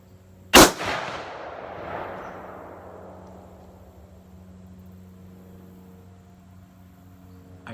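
A single loud rifle shot from a 1917 Enfield chambered in 25-06 Ackley Improved, a sharp crack followed by a long rolling echo that fades over several seconds outdoors, with no voices.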